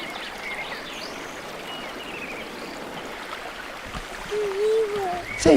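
Water flows steadily at the Cachoeira do Sapezeiro waterfall in Santa Bárbara d'Oeste, Brazil, as a faint constant rush with a few bird calls and a brief louder rustle near the end.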